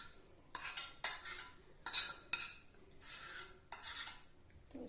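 A spoon scrapes and clinks in a pan while mashed bottle gourd kofta is mixed, in several separate strokes with metallic scraping over a quiet kitchen background.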